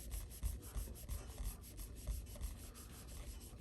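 A cloth or pad rubs grime off a cheap guitar body in close, faint, steady scrubbing strokes with a rough sanding texture, with no voices present.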